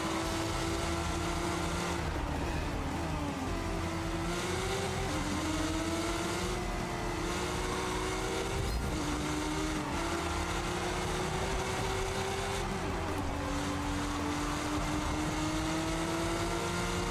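Car engines from a racing video game drone continuously, with revs repeatedly climbing and dropping through gear shifts, loud and steady for the whole stretch.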